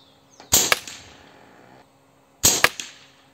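Two sharp shots from an airgun or rifle fitted with a Slug Monster kit and a Fiora 600mm barrel, about two seconds apart, each a loud crack with a brief ringing tail, no voices.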